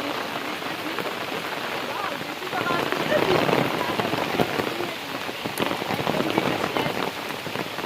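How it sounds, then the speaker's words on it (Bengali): A heavy downpour drums hard on surfaces nearby, growing a little louder partway through and staying constant after. "দেখতেছি প্রচুর বৃষ্টি তো বৃষ্টিতে ভিজে ভিজে বাসায় যাচ্ছি"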